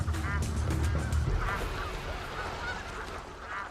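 Hundreds of geese gathered on a high plateau honk repeatedly in a noisy, overlapping chorus, some calls close and loud, others farther off, with no talking.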